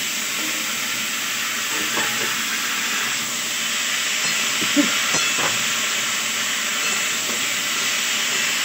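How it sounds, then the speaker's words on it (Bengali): Tomatoes hit a hot pan and sizzle in a steady, close hiss, with light stirring scrapes and small crackles breaking through now and then. "এবার টমেটোটা দিচ্ছি।"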